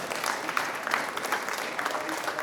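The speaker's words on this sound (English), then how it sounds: "Y'all give a hand clap for Cecil" Conference crowd gives a round of hand claps for a man named Cecil, steady moderately distant applause with scattered sharper claps, continuous through the whole stretch.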